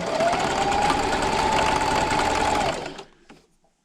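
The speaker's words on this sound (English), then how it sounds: "I'm going to back stitch probably 2 or 3 times, and then I'm going to sew all the way down my line" A sewing machine back stitching a pocket placemat runs in one loud, close, steady burst of rapid mechanical whirring, then stops with a couple of faint clicks.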